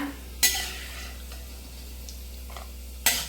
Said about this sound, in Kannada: ಫಸ್ಟು ಗೋಡಂಬಿ ಹಾಕ್ಕೊಟ್ಬಿಟ್ಟು ಫ್ರೈ ಮಾಡ್ಕೊಡ್ತೀನಿ